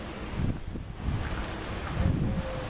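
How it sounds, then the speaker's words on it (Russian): Strong, gusty wind blows through a park in Dzhankoy, Crimea, battering the microphone with a steady low roar and rising gusts, with no voices. "4-й день дует сумасшедший ветер."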